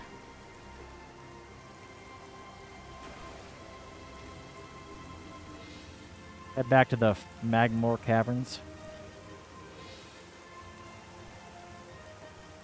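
Steady rain in the video game Metroid Prime Remastered, a continuous soft patter heard throughout, with a person talking briefly over it partway through.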